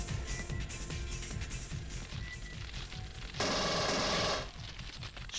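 Sustained rapid gunfire from the Alien Trilogy shooter as facehuggers are strafed, a steady mechanical rattle of shots with a louder, harsher burst near the end.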